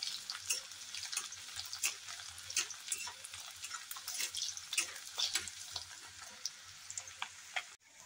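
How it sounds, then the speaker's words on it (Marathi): Chopped garlic and ginger frying in hot oil over high heat, a faint, continuous crackling sizzle broken by small scraping stirs, with no voice over it. "सुरुवातीला हे भाजून घ्यायचं आहे तेलात चांगलं"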